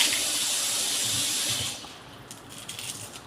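Steady hiss of tap water running for about a second and a half, then it stops, leaving quieter room noise with faint clatter.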